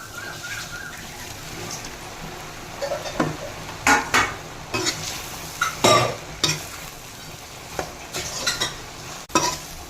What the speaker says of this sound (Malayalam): വറുത്ത് വെച്ചേക്കുന്ന സോയാബീൻ ഇട്ടൊന്ന് മിക്സ് ആക്കാൻ മതി.